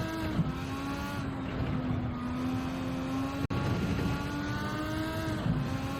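A race car screams along at high speed in Gran Turismo 7, its engine holding a steady high-pitched whine with brief gear shifts and one sharp dropout midway, loud and continuous with no talk.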